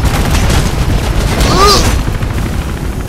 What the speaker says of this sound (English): Don't run as we shoot machine gun bullets at you.